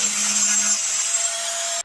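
Paint being scraped off metal to prepare a captive nut for welding on a Land Rover winch mount, a steady, close abrasive rasping that runs continuously and alone for under two seconds.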